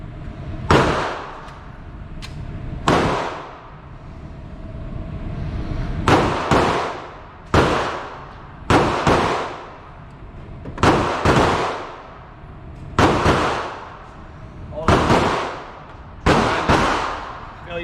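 Gunshots at an outdoor shooting range, about nine loud sharp reports spaced irregularly a second or two apart, each with a short ringing decay, and quiet voices in the background between shots.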